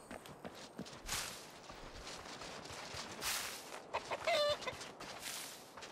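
A chicken in the game Runescape: Dragonwilds gives faint, scattered clucks over soft footsteps and quiet ambient game noise.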